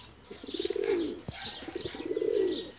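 Loft pigeons being fed a mixed grain feed coo in two clear, rolling phrases, one after the other, close and fairly quiet, with a light tap between them.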